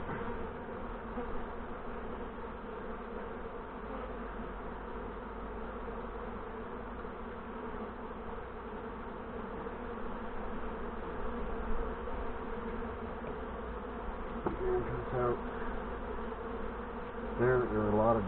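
Honey bees buzz in a thick, continuous drone around an open hive during an inspection after a robbing attack. The hum stays steady and close throughout, with a few handling clicks near the end and one brief spoken word.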